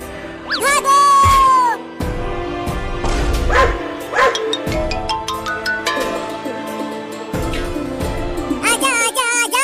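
Two puppies yip and bark in short bursts among whimpers, mixed with a man's calls and a busy cartoonish soundtrack, loud and close.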